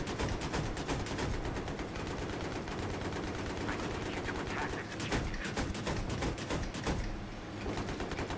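Rapid automatic gunshots in Battlefield 3, rattling in a fast, steady stream of close, loud bursts with barely a pause, while players talk beneath the shooting.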